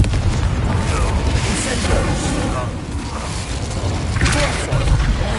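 Confringo fire spell explosions blasting during a Dark Arts combat encounter in the video game Hogwarts Legacy, a dense, loud stream of booming bursts with several sharper blasts near the end, mixed with game voices.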